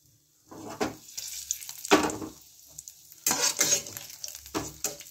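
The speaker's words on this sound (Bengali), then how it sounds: "ছোটো এলাচ, দালচিনি, তেজপাতা ফোড়ন দিলাম" Green cardamom, cinnamon and bay leaf dropped into hot oil for tempering, bursts of sharp crackling sizzle that rise and fall with stirring, close and fairly loud, with a clink of a spoon.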